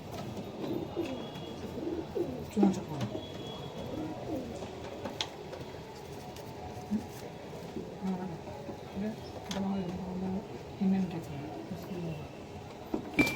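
Racer pigeons coo softly in low, repeated calls at a pigeon sale, with faint insect buzz and someone talking over them throughout.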